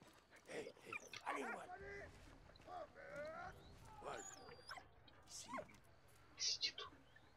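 A dog in the World War I video game Valiant Hearts: The Great War, set in Reims, gives short yips and whimpers over a quiet game background, with someone talking at times.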